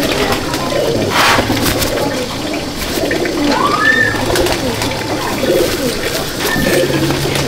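Several Madrasi (Chennai) pigeons coo steadily inside a loft at Andul, Howrah, a dense, close chorus of low burbling calls over a faint rushing background, with no voices.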